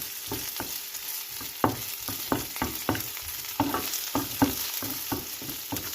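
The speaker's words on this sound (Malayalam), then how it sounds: "നമുക്ക് ആ മുന്തിരി ഒന്ന് വറുത്തെടുക്കാം." Raisins frying in ghee in a pan, with repeated scraping and tapping stirs over a steady sizzle. The cooking sounds are close and there is no talking.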